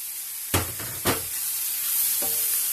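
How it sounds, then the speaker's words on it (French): Sautéed cassava sticks with tomato, cucumber, carrot and fresh ginger are stirred in a pan, two distinct utensil scrapes over a soft continuous sizzle, then a fainter third stir. "Je remue bien."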